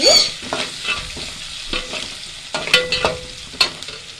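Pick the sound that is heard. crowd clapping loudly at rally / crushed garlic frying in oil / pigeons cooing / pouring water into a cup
crushed garlic frying in oil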